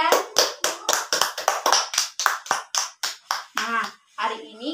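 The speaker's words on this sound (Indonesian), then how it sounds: "Beri tepuk tangan untuk Mbak Dian" Classroom students applaud together in a burst of rapid, fairly loud clapping that thins out and gives way to a voice near the end.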